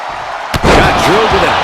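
A wrestler slammed onto the mat in WWE 2K25: one heavy thud after a quiet moment, then a booming crowd roar and commentary talk continuing over it.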